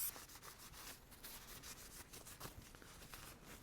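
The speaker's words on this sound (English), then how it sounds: "I'm just going to use a little bit of brake cleaner on a cloth and just give it a little wipe over." A cloth with brake cleaner is wiped over the grip area of a Himalayan 450 motorcycle handlebar, giving soft, continuous brushing and rubbing strokes that stay quiet and close.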